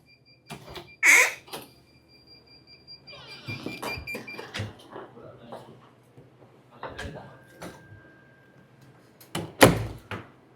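An interior door is pulled shut at an equipment room with a laser safety interlock and magnetic lock, giving a sharp thump near the start and another near the end, with footsteps, shuffling and quiet voices in between.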